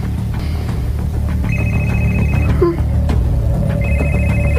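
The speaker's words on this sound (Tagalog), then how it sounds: "Akong tawagan siya ng cellphone." A cellphone rings in a Cebuano radio drama: two bursts of a bright electronic ringtone sound over a low, steady rumble, moderately loud, with no one speaking.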